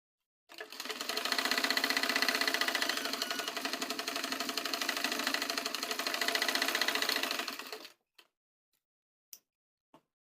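A sewing machine stitches a cross piece onto a dress neckline in one continuous close whirring run of about seven seconds, then stops and gives a few faint ticks.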